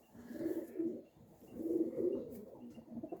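A young racing pigeon gives two soft, low cooing phrases separated by a short pause, close by but quiet, with no other sound around it.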